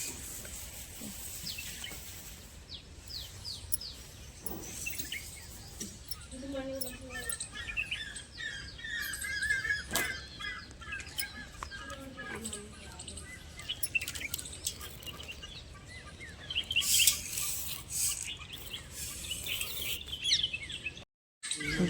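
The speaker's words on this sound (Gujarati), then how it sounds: "ચકલાને દોણા નાખી દઈએ." Sparrows chirp and tweet in scattered bursts near and farther off while grain is tossed to them at a home, with faint background noise, a brief patter and occasional voices.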